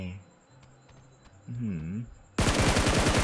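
Rapid automatic gunfire from PUBG: New State bursts in loudly at the end, after a quiet stretch with a brief low voice.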